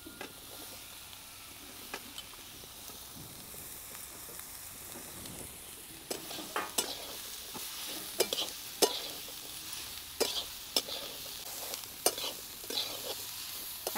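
Cooked wild figs (umbar) sautéed in a tomato-onion masala, a soft steady sizzle that turns to repeated spatula scrapes and taps in the second half, close and fairly quiet with no talk.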